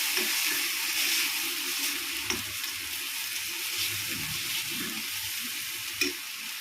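Chili powder sautés in oil in a pan with a soft, steady sizzle and occasional faint stirring knocks, fairly quiet and close, without any voices.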